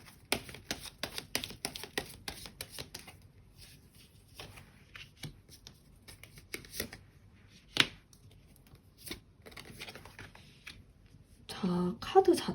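Tarot cards shuffled by hand during a reading: quick dense riffling and clicking at first, then sparser card taps and slides, with a soft voice coming in briefly near the end.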